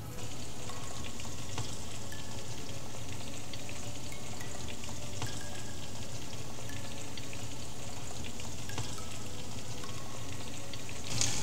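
Garlic-flavoured food pan-frying with a steady, close sizzle and crackle from start to finish, with no talking over it.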